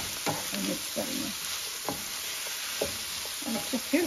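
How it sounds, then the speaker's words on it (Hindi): Potatoes and eggplant stirred in a hot pan, a spoon scraping and turning the vegetables in several separate strokes over a steady sizzle of frying, close and moderately loud. "यहाँ से इनको भी चलाएंगे और मिक्स करेंगे।"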